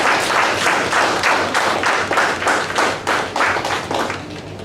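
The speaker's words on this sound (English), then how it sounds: "A big round of applause for Arjun." A room of students claps for a speaker, a loud, close burst of hand clapping that falls into a steady, pulsing rhythm throughout, with no talk over it.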